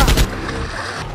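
A toy gun fires a quick, loud cluster of sharp shots at the start, followed by a noisy, rumbling tail.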